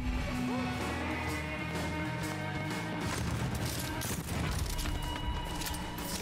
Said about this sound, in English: this shotgun is powerful